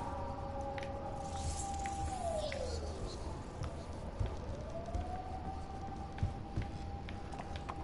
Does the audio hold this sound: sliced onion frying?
no